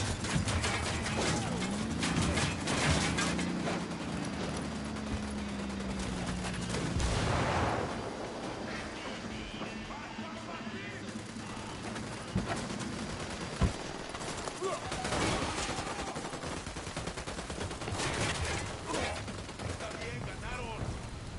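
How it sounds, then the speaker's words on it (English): Gunfire in the open-world shooter Ghost Recon Wildlands, repeated shots and bursts over a busy game soundscape, with voices talking at times across the exchange. "Opening fire."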